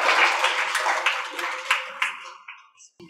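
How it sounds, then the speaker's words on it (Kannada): Audience at a free Anapanasati meditation class held by the Lions Club in Sidlaghatta, Bengaluru, clapping loudly for the organizers, a dense burst of hand claps that thins out and fades over a few seconds. "ಎಲ್ಲರಿಗೂ ಜೋರಾಗಿ ಒಂದು ಸತಿ ಚಪ್ಪಾಳೆ ಜೋರಾಗಿ"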